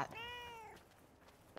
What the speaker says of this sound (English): Oh, it's another cat. A cat.